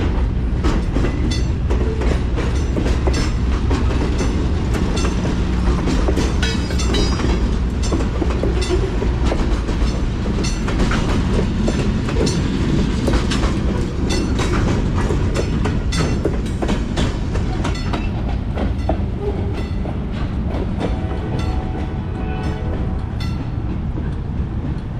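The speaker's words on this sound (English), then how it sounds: "Goshen bound train." A train rolling past in Kings–Tulare County, California, heading toward Goshen, with steady loud rumble and rhythmic clickety-clack of railcar wheels sustained throughout, close and continuous without talk.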